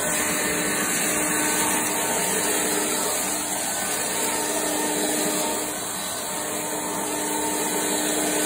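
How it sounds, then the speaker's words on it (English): A handheld leaf blower running continuously at close range, a loud steady whine and airy roar with a brief dip in level partway through. "For what this leaf blower is, it does well."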